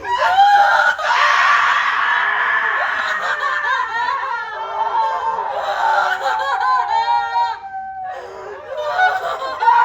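Several voices scream and wail together on stage in a theatre festival play, shrill overlapping cries with laugh-like bursts, loud and sustained.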